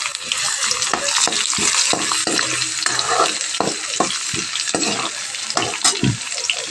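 Cumin seeds and garlic hit hot oil in a pan and crackle loudly, with a steady bright sizzle broken by repeated knocks and scrapes of a stirring spoon.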